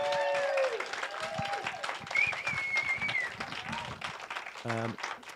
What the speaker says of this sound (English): If you give another warm round of applause for Elle's Kitchen